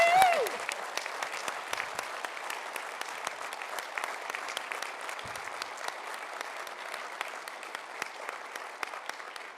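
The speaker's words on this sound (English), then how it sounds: "please give one more round of applause to these fine." A gala dinner audience applauds in a steady, even wash of clapping that fades slightly after a louder start, with a few sharper claps standing out and no talking.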